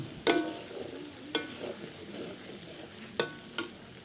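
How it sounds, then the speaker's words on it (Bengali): Onion, garlic, ginger and garam masala fry in a pan for chicken bhuna, a steady low sizzle punctuated by a few sharp clacks of a spatula against the metal. "পেঁয়াজ রসুন আদা গরম মশলা বাজলাম"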